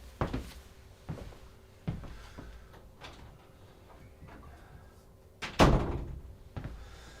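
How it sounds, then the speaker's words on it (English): A house door thunks open and shut several times to let a dog outside, with a sharper louder knock near the end and quiet room noise in between. "hold on, I'm gonna let Russell out real quick"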